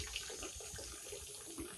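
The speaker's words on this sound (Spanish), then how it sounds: "Abrimos la llave, sale la agüita caliente," Hot water pours from an opened tap into a jacuzzi, a steady close splashing rush that runs unbroken and fairly quiet throughout.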